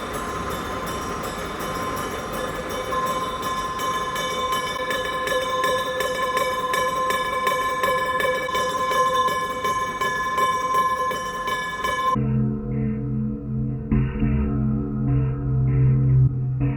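Milling machine cutting metal at raised RPM with a lower feed and 0.2 mm depth of cut, a steady tonal whine with a harsh broadband grind for about twelve seconds before it shifts to a lower, quieter hum.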